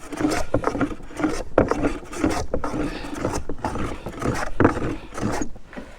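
A hand plane shaves across a ridged wooden charcuterie board, making a series of uneven rasping strokes with short pauses between them, close and moderately loud.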